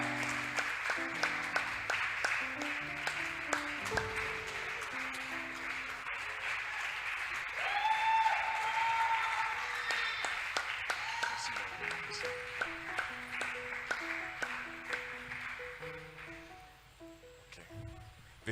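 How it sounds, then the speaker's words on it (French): An audience in a church ceremony applauds steadily with continuous clapping throughout, while music plays and the crowd's noise swells midway. "Maman Aline Djoumessi, sous vos ovations, s'il vous plaît."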